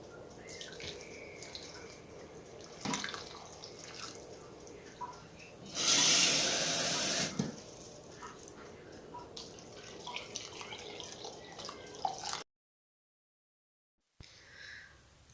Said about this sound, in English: So with this soup, I right away add water.